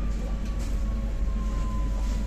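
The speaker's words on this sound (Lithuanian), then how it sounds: "Dar nesustoja traukinys, matai, dar važiuoja traukinys." A passenger train on the Riga to Jūrmala line rolls along with a steady, loud, continuous rumble and a faint high whine, heard from inside with no talking.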